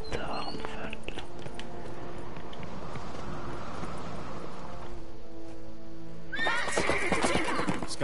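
A horse whinnies loudly near the end, its call rising over steady hoofbeats and ambient sound in The Witcher III: Wild Hunt, set in Skellige.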